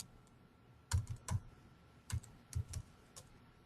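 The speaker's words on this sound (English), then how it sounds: "type in my password" Keys tapped on a computer keyboard while entering a password, a few quick soft clicks in two short bursts with pauses between, close and clear in a quiet room.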